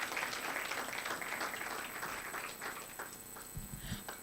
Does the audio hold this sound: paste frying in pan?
no